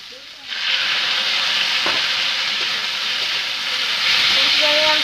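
Potatoes frying with poppy seeds in a pan for vegetarian aloo posto give a loud, steady sizzle that runs nearly throughout, with one brief tap partway in.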